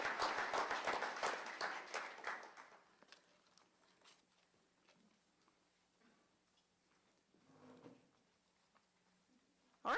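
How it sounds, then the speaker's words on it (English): Audience applause at a college signing day ceremony, a brief burst of clapping that quickly thins to scattered claps and fades into near silence, with a faint voice-like murmur later. "please join me in applauding the next generation of medical laboratory technology professionals"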